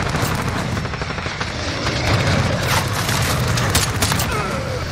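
Dense gunfire and explosive booms from the Modern Warfare video game, with a helicopter-like roar underneath, fill the whole stretch as a loud, continuous barrage with sharp bursts throughout.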